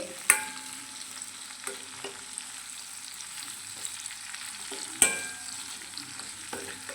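Chopped shallots and green chili fry in oil in a steel pan, giving a steady close sizzle broken by a few sharp scrapes of a spoon against the metal. No one speaks.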